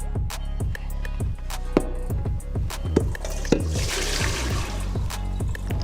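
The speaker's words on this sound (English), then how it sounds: "We getting those to drip all of the water." Water drains and drips off freshly boiled potatoes sitting in a colander in a kitchen sink, a steady wet trickle with scattered distinct drops over a few seconds.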